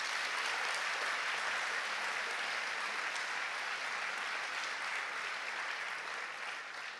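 Sustained applause from an audience at a municipal New Year's greetings ceremony, honoring the local police, a dense steady wash of many hands clapping that holds throughout and eases slightly at the end.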